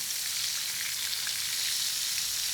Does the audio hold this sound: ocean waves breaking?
no